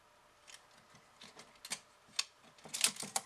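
The winding knob of a 35mm film camera is cranked, making faint, close clicking and ratcheting ticks in short irregular bursts that grow a little louder toward the end.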